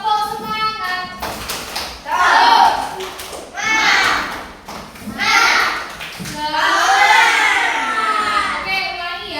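A class of children performs the Indonesian 'tepuk semangat' rhythmic clap chant together, bursts of claps alternating with loud group chanting in a classroom, the voices and claps near and lively.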